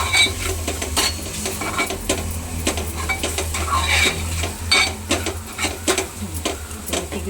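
Masala gravy for egg curry being fried in a pan, with a spoon stirring and scraping against the metal in quick, repeated strokes over a low steady sizzle, close up, with no talking.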